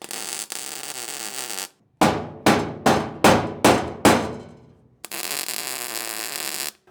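Six sharp metallic hammer blows on bent steel of a truck service bed ring out in a steady rhythm, each clang decaying briefly, between stretches of loud buzzing tack-welding noise.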